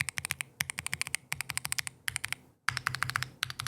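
Fast, steady typing on a Keychron Q1 HE brass keyboard with magnetic Hall-effect switches and double-shot PBT keycaps; crisp, close clacks in quick bursts with a brief pause partway through.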